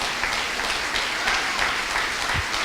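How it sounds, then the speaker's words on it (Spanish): A church congregation at a Spanish-language sermon applauds together, a dense, steady wash of many hands clapping that holds evenly throughout without a break. "¿Puede aplaudir usted al Señor y a su nombre?"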